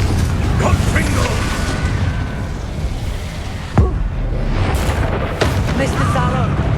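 Confringo fire spell blasts in the video game Hogwarts Legacy, with a sharp boom midway and another burst soon after, set in dense, loud game noise with voices.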